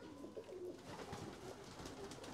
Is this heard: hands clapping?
no